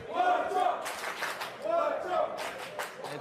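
Spectators at a poker final table in Barcelona chant in unison with rhythmic clapping, two swells of crowd voices and claps in a large room, fairly faint and distant.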